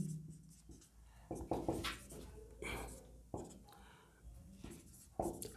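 Writing notes by hand during a physics lecture on magnetism, irregular scratchy strokes and taps close up with quiet murmured talk mixed in.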